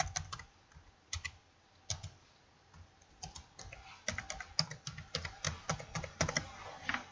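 An access code is typed on a computer keyboard, with close, crisp key clicks in irregular bursts that grow quicker and denser toward the end, heard alone.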